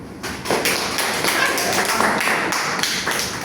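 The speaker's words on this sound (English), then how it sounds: "Let's give him a round of applause" Applause from the audience at a Toastmasters club meeting after an evaluator's timed speech, as a continuous, even wash of clapping that holds steady throughout, with a faint murmur of voices underneath.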